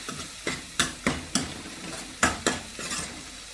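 Onion paste fries in a pan while a spoon stirs it in regular scraping strokes, about one every third of a second, over a soft sizzle. It is close and clear, with no talking.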